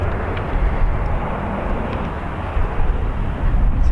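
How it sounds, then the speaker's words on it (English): A Boeing 777 that arrived from LAX departs Dublin Airport, a broad, steady jet roar with deep rumble, loud and continuous, no voices over it. "That was a 777 from LAX"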